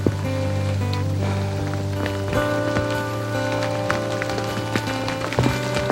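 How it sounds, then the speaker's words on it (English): Pouring rain falls steadily in the woods during a deer hunt, a dense continuous patter with scattered sharper drops and thuds close by, with no talk. "it's a touchy situation in the pouring rain here"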